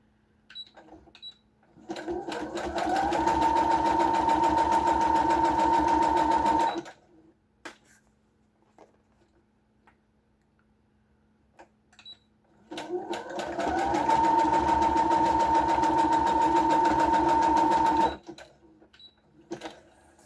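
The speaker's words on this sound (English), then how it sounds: "now I'm just zigzagging across the ribbon to attach it" Sewing machine running in two sustained bursts of about five seconds each, zigzag stitching across ribbon on a tablecloth junk journal tag, with a steady motor whine and a quiet pause between runs.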